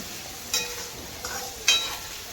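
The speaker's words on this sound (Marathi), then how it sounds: "आपलं गाजर पण मस्त फ्राय करून घ्यायचे" Carrots frying in a pan for noodles, a soft steady sizzle broken by two or three brief scraping stirs, close and fairly quiet with no talking.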